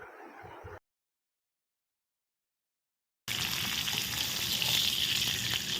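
Fish frying in a pan with curry leaves and mint, a brief sizzle, a gap of silence, then a loud continuous crackling sizzle up close.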